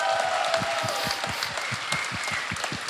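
An audience at a gratitude evening honouring Ukraine's armed forces claps steadily, a dense, sustained wash of applause from a large crowd with no voices standing out.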